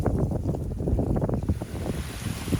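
Gusty wind on the Appalachian Trail buffets the microphone in a continuous low roar that swells and eases in uneven pulses, loud and close, with no voices.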